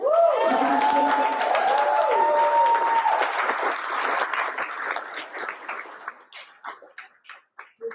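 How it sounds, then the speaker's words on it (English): Applause at a church annual meeting, a crowd clapping in thanks under lingering voices and a sustained tone at first, then thinning to scattered individual claps that fade out. "we all give a round of applause and an amazing thanks to Jen and Karen"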